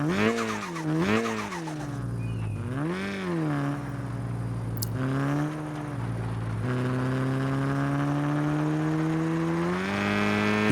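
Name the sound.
turbocharged car engine revving with VTEC in Car Parking Multiplayer video game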